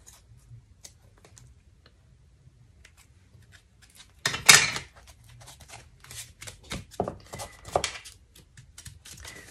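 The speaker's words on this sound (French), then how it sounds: "je vais couper tout simplement au bord" Scissors cutting paper for a homemade Christmas scrapbook album, a run of crisp rustling snips after a quiet start, close and clear, with some paper handling between cuts.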